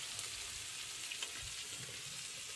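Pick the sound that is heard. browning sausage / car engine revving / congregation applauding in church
browning sausage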